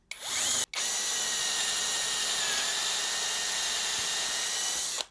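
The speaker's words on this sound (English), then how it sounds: "I'm gonna go ahead and show you here how to drill a hole through this here" A HOTO 16V brushless power drill whirs at high speed, briefly starting and stopping, then running continuously and loud as it bores through wood before winding down.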